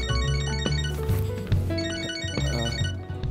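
A phone rings in the video game Catherine Full Body, its electronic ringtone melody sounding continuously for about three seconds, mixed with the game's dense background music.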